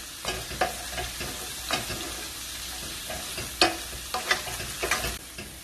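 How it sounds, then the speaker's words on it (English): Aromatics fry in a pan while a utensil stirs and scrapes the bottom clean, sharp scraping strokes recurring every second or so over a steady close sizzle, with no talk. "You want to scrape all the bottom of the pan, all this flavor out, and mix it in with all these aromatics"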